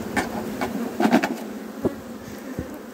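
Honeybees buzz steadily around an opened hive that is preparing to swarm, a close, continuous drone with a few louder passes and light knocks from hive work.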